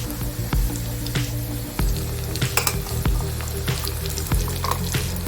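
Ground masala paste sizzles in hot oil with browned onions for spicy chicken sukka, a steady frying hiss broken by repeated scraping and clinking of a spoon against the pan.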